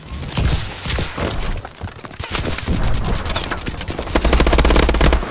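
Rapid bursts of automatic gunfire in Call of Duty: Advanced Warfare, dense and loud, with a sustained rattling volley near the end.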